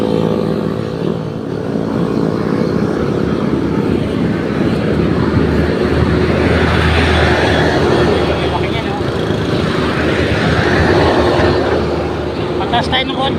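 Highway traffic streams past nearby, a continuous loud roar of engines and tires with vehicles swelling and fading as they pass, while people talk over it.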